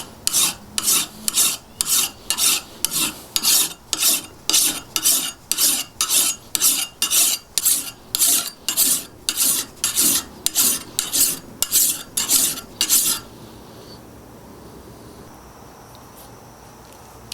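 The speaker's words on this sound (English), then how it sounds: "Here's what I'm left with after about 20 minutes of honing on this thing with a file." An old broad axe, about 200 years old, has its edge honed with a hand file: around twenty steady, evenly spaced rasping strokes, close and loud, then a quiet stretch of room tone.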